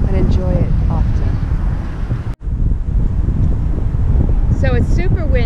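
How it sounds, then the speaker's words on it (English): Heavy wind buffeting the microphone in a loud, continuous roar, with brief voice-like fragments in it and a sudden momentary dropout midway. "So it's super windy and I'm gonna have to speak loud"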